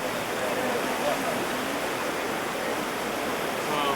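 Water squirting steadily from a dinosaur-head water feature, a continuous broadband splashing rush that fills the whole stretch at an even, fairly loud level, with faint voices in the background.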